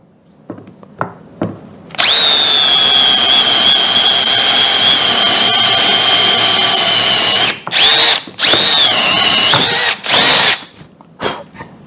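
A Milwaukee M12 Fuel cordless drill on speed 2 drives a 12 mm Ingco spade bit with a loud, close, high motor whine. It holds for about five seconds, then comes in three short bursts, with quiet handling noises before it starts.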